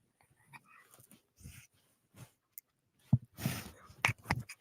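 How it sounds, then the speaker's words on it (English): A pet dog whimpers and yips in short, high, scattered bursts close by, with chewing-like snuffles and quiet gaps between, and a voice briefly in the background. "Can you hear my dog? He's talking."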